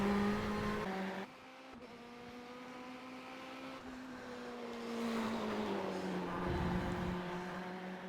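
Simulated Ferrari 488 GTE race car engine in the iRacing video game drones steadily for several seconds, its pitch dipping with a gear change then rising again as it accelerates, with no talk over it.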